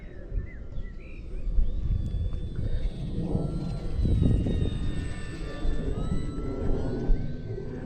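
An Eflite Mini Draco RC plane's electric motor whines in flight, rising and falling in pitch as it passes at moderate distance, over outdoor wind and faint birdsong.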